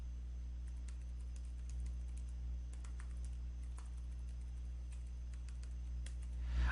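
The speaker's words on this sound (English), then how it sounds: "So for example, I can type." Keys tapped on a computer keyboard while typing a document, with scattered soft clicks over a steady low hum, fairly faint and without talk.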